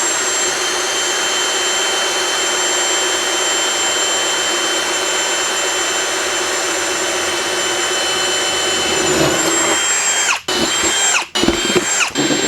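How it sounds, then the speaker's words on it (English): A power drill whines steadily and loudly as it bores holes in a lid for a budget portable LiFePo4 power station, followed by a few short bursts near the end. "now really all I've got to do is go ahead and drill out the areas where I need to go ahead and mount those."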